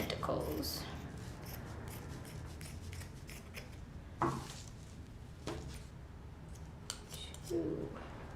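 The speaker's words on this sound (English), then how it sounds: "we're going to take our scissors and do 7 cuts to make our tentacles" Scissors snipping paper into seven tentacle strips for a craft, a series of crisp close cuts spaced a second or two apart, with some background voice under them.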